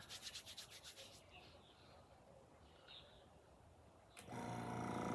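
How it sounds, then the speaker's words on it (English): An air compressor motor kicks in abruptly near the end, a loud steady hum and rattle after a stretch of quiet rubbing and faint background noise. "Okay, that's my compressor starting."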